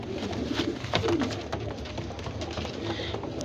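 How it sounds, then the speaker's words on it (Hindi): Golden highflyer pigeons cooing in a loft, soft repeated coos over a steady background hum, with a few brief low calls and no talk. "ये कबूतर देख लें माशाल्लाह गोल्डन कबूतर है"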